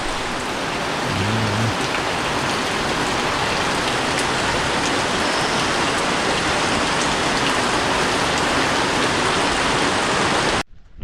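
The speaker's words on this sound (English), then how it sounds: "It's raining outside." Heavy rain falling outside on a farm, a dense, even, loud roar of drops hitting surfaces that continues without letup and cuts off abruptly at the end.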